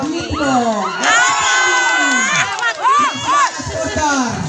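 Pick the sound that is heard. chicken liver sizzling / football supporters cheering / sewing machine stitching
football supporters cheering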